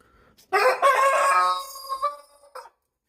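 A Brahma rooster crows once, loud and close, with a long drawn-out call that tapers off, followed by a brief squawk in an otherwise quiet coop.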